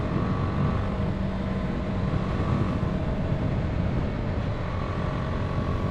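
A 2020 BMW G 310 R single-cylinder motorcycle engine runs steadily close by, a continuous low droning rumble with mild vibration-like texture, no talking over it.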